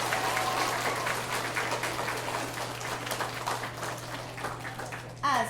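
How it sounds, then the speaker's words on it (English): An assembled audience at a school opening ceremony for a new post office applauds steadily, a dense continuous wash of clapping that holds at an even level throughout. "Let's hear some applause."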